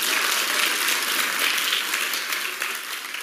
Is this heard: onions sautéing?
no